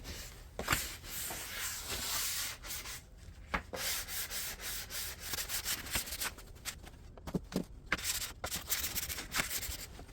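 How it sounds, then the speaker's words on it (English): Scuff sanding primed wood trim molding by hand, a steady raspy rubbing of abrasive on the painted surface with repeated strokes and short pauses, close and moderately quiet. "Do a little scuff sanding."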